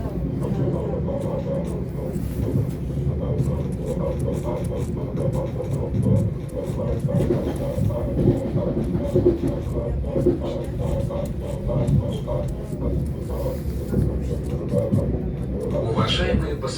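A Lastochka passenger train rolls along the rails toward the Zhiguli Sea with a steady low rumble and a soft, repeated wheel clatter, heard from inside the carriage for the whole stretch; a voice murmurs faintly in the background.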